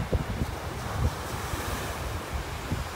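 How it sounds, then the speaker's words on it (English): Strong wind gusting across a beach in North Naples, Florida, buffeting the microphone with low rumbling bursts over steady surf, no voices. "Boy, all this wind out here."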